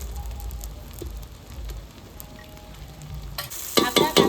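Chopped green chilies and tomatoes hit a hot pan on a village wood stove, a low steady sizzle building into a louder, bursting crackle and stirring scrapes near the end, close and with no talk.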